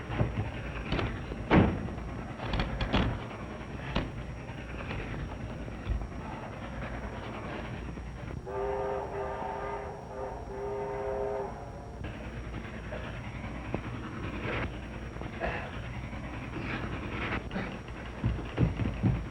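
A train rumbles past steadily, and a few seconds in a loud, sustained multi-tone horn blares for several seconds before fading back into the rolling noise.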